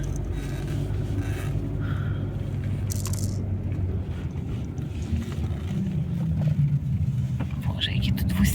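A car drives along a road in Italy after crossing from Switzerland. A steady, loud engine and road rumble fill the interior, with people talking over it.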